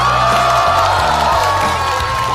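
A studio audience at a stand-up comedy show claps and cheers loudly, a steady dense roar of applause with whoops from the crowd throughout.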